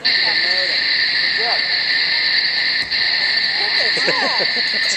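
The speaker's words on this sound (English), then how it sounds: "Crickets chirping." A steady, dense chorus of crickets trills without pause, with a few low frog croaks bubbling up now and then underneath.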